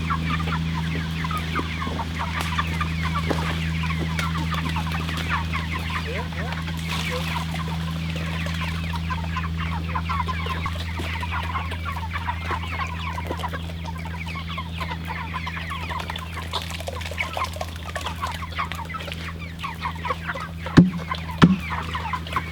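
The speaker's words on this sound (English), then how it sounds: "We got our big hens." Meat birds and hens cluck steadily in a woodland pen, with continuous overlapping calls under a constant low hum and a couple of louder close clucks near the end.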